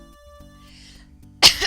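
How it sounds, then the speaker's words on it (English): A single sharp cough right into a microphone, sudden and loud after a quiet stretch with faint background music tones. "Coughing into the mic."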